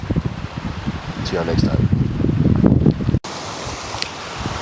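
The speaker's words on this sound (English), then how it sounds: "I'm gonna have to go against this wind the entire 3 miles back" Strong wind rushes over a choppy bay while a kayaker paddles, buffeting the microphone in loud gusts under a man's speech, then drops to a steadier rush.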